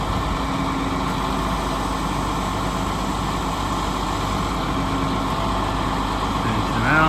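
A 2012 International Durastar service truck idles steadily up close while its 12,000 lb crane extension runs, giving a constant mechanical drone with a slight rise at the very end.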